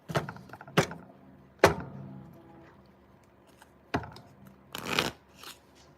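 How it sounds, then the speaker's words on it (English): Tarot cards being shuffled, a handful of quiet riffles and soft slaps spaced out over a few seconds, close and faint. "Let's get the second shuffle out."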